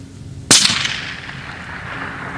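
A single sharp rifle shot rings out during a deer hunt on a Texas ranch, loud and close, followed by a rolling echo that decays over about a second into quiet outdoor ambience.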